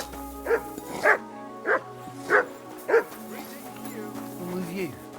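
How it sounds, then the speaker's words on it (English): A dog in the video game Kingdom Come: Deliverance II gives five evenly spaced barks, close and moderately loud, followed by a soft whine, with a quiet voice heard near the end. "Good dog, Mutt"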